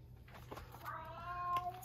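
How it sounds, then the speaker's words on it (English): A cat meows with a drawn-out, rising and falling call near the microphone, over a low steady hum. "my cat is meowing"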